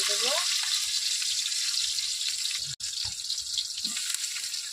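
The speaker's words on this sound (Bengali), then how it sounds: "তাই এই যে কাঁচা লঙ্কা দিলাম তেলে, আর এই যে কটা টমেটো কুচি।" Green chilies and chopped tomato hit hot oil in a home kitchen pan, giving a steady bright sizzle that carries on throughout with a brief break near the middle.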